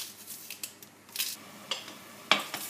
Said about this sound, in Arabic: باش نقص البصل نتاعي